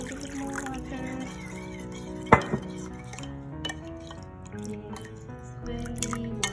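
Water trickles into a bowl of Thai soup mixture with onion leaves and chilies, making soft drips and splashes, with one sharp clink against the bowl partway through, quiet and close.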